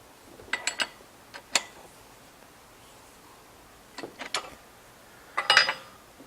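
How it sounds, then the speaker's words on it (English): Clamp screw being tightened on a Ridgid 141/161 pipe threader: a few sparse metallic clicks and ratcheting ticks in small clusters, fairly close, with quiet pauses between. "now I'm going to tighten up the clamp screw"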